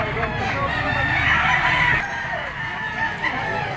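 A bull stag gamecock crowing loudly up close amid a busy poultry market, its drawn-out call rising then fading, with other birds and background chatter around it.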